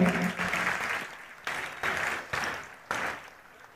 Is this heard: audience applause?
yes